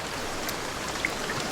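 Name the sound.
light rain environmental effect in Immortal Realm video game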